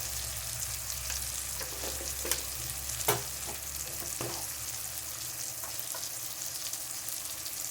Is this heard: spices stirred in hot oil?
yes